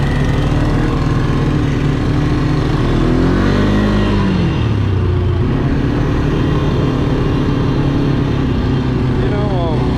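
A Can-Am Outlander 450 4x4 ATV engine drones steadily and loud while riding, its pitch rising and falling with throttle changes, up close for the whole stretch.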